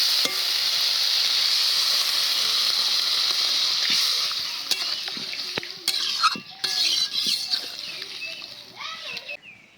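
Water is poured into a pan of sizzling fried mixture for a Bengali small-fish chochori with bottle gourd shoots. A loud, close hiss gives way to softer, uneven bubbling and clatter as the contents are stirred.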